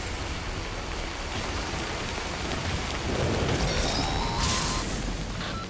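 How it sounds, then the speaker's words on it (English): Timefall rain pours steadily in the game Death Stranding, a dense, continuous patter of rain with low thunder rumbling underneath. Faint higher tones rise briefly near the end. "We've been getting near constant timefall in this region for a while now."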